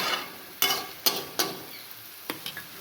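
Fish frying in a pan for a Chittakayi fish curry, heard as a steady soft sizzle broken by a few sharp scrapes and clatters of stirring, spaced irregularly and fairly close.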